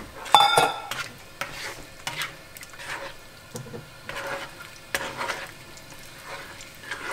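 Dinuguan, a pork blood stew, is stirred in a pot, giving soft repeated scrapes and occasional clinks of a utensil over a faint simmering hiss, moderately close and with no talk.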